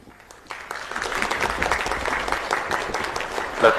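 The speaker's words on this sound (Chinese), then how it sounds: "大家伙的掌声啊，简直是要把房顶都给掀翻了呀" Crowd applause in a room at an Indian rocket launch, starting quietly then swelling into continuous dense clapping that grows louder toward the end.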